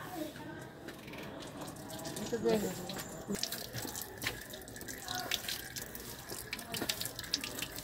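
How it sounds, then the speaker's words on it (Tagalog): Water runs from a tap at a grotto with holy spring water, a steady splashing rush with some mechanical clicking, while people talk and move about nearby. "Buksan mo yung tubig."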